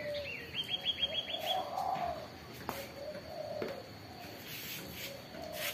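Pet birds, including turtle doves, coo and chirp nearby in a soft morning setting, a quick run of rhythmic calls at the start giving way to scattered chirps over a steady background hum.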